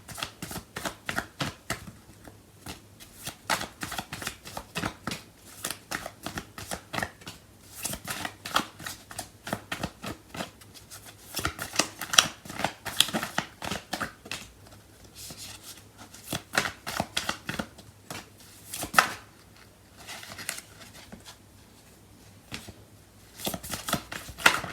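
Tarot cards being shuffled by hand, with dense bursts of crisp riffling and slapping at irregular intervals throughout. The sound is close and fairly quiet, and no one speaks.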